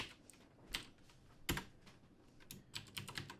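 Soft keystrokes on a computer keyboard, typing sudo -i at a terminal: sparse, quiet clicks that pick up into a quicker cluster near the end, with no talking.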